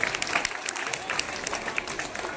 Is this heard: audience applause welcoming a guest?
yes